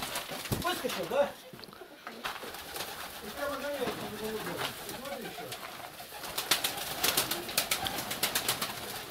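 Pigeons coo softly inside a pigeon loft, low burbling calls mixed with wing flutters and scuffling, while people talk nearby over the birds.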